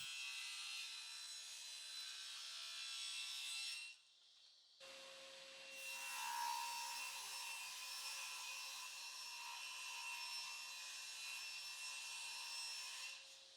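Table saw ripping southern yellow pine at a 45 degree miter, a steady high whine of blade cutting wood that dips briefly partway through and then continues to a close.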